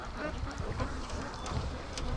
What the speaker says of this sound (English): This little group of ducks coming back would probably end up causing 200-300 ducks to come back.